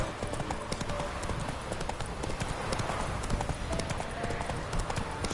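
Roach, a horse in The Witcher 3, trots with a steady, close clip-clop of hooves that runs the whole time alongside ambient game sounds, with no talk.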